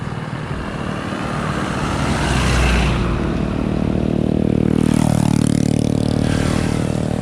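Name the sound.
occasional vehicle passing on a rural road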